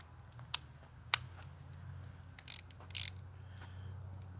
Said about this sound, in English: Let's get the 9/16 socket on here.